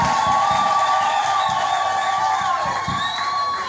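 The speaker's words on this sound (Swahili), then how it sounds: "makofi mengi, makofi mengi" An audience at a wedding vow ceremony cheers and whoops loudly, a continuous roar of voices with rhythmic clapping beneath it, close and sustained throughout.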